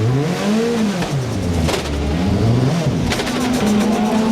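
A race car's engine revs and falters in the pit lane during a 2005 American Le Mans Series pit stop at Mosport, rising and dropping in pitch under continuous commentary.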